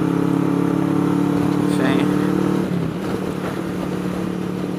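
A motorcycle fitted with a Delkevin exhaust, its engine drone loud and steady, then easing off near the middle, with wind buffeting over a helmet microphone.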